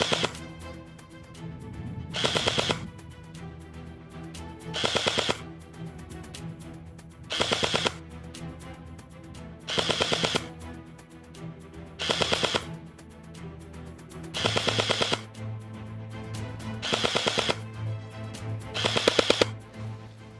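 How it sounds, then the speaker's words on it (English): An airsoft LWRC SMG 45 replica fires about eight short full-auto bursts at outdoor targets, each a sharp rapid rattle spaced a few seconds apart over steady background noise. "To do that, we'll do some full auto bursts and try and strike the last two targets."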